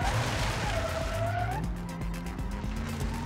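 A V8 engine in a front-wheel-drive car in BeamNG.Drive drones while tires squeal through a skid, the engine note dropping and then holding steady, with a game-like quality to the sound.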